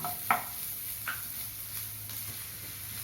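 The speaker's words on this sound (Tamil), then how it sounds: "நாலு வெங்காயம் பொடியாக அரிஞ்சி வச்சது அதையும் சேர்த்து வதக்கலாம்" Finely chopped onions are sautéed with cinnamon and cloves in a pan, with a soft sizzle under a few brief scrapes of a stirring spoon.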